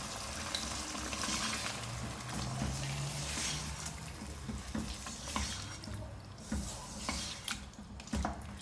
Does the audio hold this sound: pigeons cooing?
no